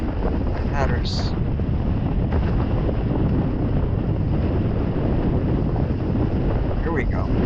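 Steady wind rushing across a mic while foil windsurfing on Lake Jocassee, North Carolina: a loud, constant roar with faint water splashes and brief light clatters near the start and end.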